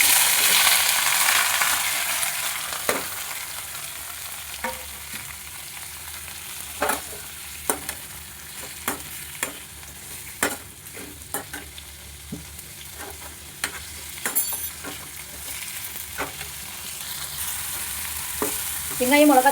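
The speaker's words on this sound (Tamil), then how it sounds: "வெங்காயம், மிளகாய், தக்காளி எல்லாம் மிங்கிள் ஆகி நல்லா வெந்து வருது." Onion, chilli and tomato frying in a pan for sambar, a steady close sizzle with scattered sharp clicks and scrapes of a spoon stirring throughout, no talk.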